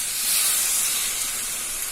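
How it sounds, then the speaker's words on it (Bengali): A cup of lukewarm water poured into beef frying for kala bhuna sets off a bright, steady sizzle and hiss that holds evenly and close for the whole moment. "এখন আমি এখানে 1 কাপ কুসুম গরম পানি অ্যাড করে দিচ্ছি।"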